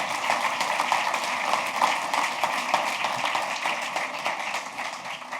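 Conference audience claps together in a dense, steady wash of applause that holds at even strength for several seconds, with no voices over it.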